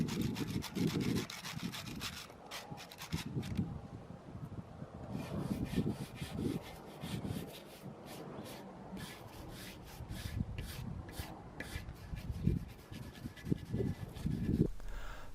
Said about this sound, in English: we went over the same area using a putty knife and a regular wire brush to remove any loose paint that was left on the wall